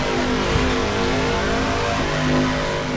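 Racing supertruck engines roar continuously under acceleration on the California 250 oval, a loud, sustained mechanical drone with rising harmonic tones and no talk over it.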